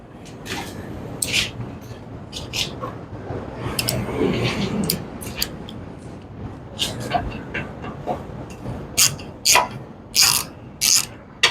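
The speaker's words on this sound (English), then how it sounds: "Now we'll get these other two bolts out." A ratchet wrench works bolts loose on a Thunderbird 289 engine, sharp rapid clicking bursts in short repeated runs, louder toward the end, close by with someone talking in between.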